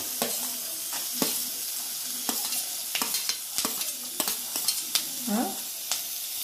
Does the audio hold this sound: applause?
no